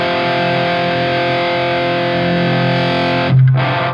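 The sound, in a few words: overdrive pedal distorted guitar amplifier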